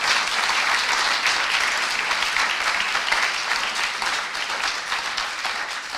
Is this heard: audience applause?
yes